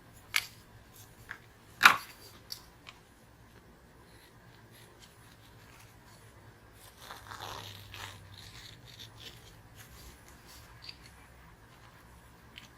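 Scissors trim fabric for a mug rug still held in an embroidery hoop, giving quiet, sparse snips and rustles close by, with a soft scraping stretch in the middle.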